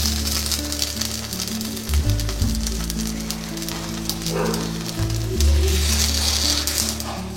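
Kuzhi paniyaram, Chettinad-style kara paniyaram from rice batter, frying in the wells of a paniyaram pan, a steady close crackling sizzle over a low droning hum that shifts pitch a few times.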